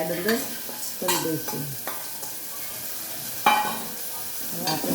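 Boiled green chickpeas are stirred into cooked tomato and onion for a Gujarati curry. A spoon scrapes the pan in several distinct strokes over a soft simmering sizzle. Nobody speaks.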